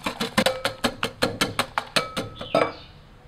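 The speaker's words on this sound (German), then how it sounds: "25 Gramm Salz zur Leber geben und mit einem Schneebesen aufschlagen, bis die Masse gebunden ist" A wire whisk beats liver purée with salt in a bowl, giving about a dozen quick, even metallic clinks and scrapes in a steady rhythm, close and clear, with no talking.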